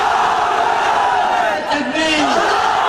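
A large crowd at a religious-political rally shouts a slogan in unison, a loud, sustained roar of many voices with a brief dip partway through.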